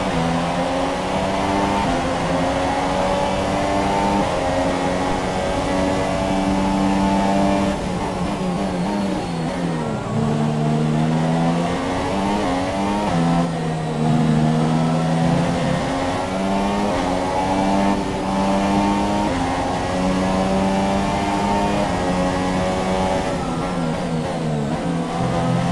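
Formula 1 race car engines from the F1 2017 video game scream in a steady high-pitched whine, several cars running together with pitch rising and dropping through gear changes, loud and continuous with no talking.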